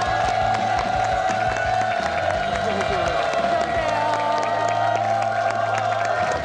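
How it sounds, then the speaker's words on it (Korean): A studio audience on a Korean nostalgia talk show applauds and cheers as a dance-loving guest is introduced, a dense, continuous wash of clapping and whoops with steady music-like tones underneath. "큰 박수 받아주세요."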